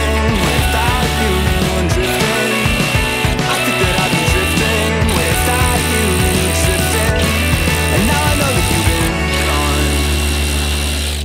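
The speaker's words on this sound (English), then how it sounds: "this is like an automatic ratchet" An automatic ratchet spins off the bumper bolts on a car front end, a loud, close whirring and clattering that runs in repeated bursts with brief pauses between.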